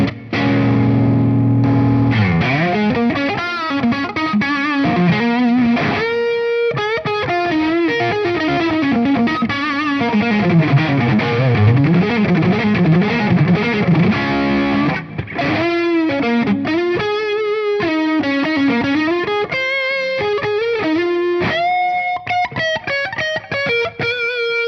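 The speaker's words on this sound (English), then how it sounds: "it takes drive pedals really well." Heavily driven electric guitar through a drive pedal into a MESA/Boogie Badlander amp, thick and saturated, played continuously in loud sustained riffs and melodic lines with only a short break near the start.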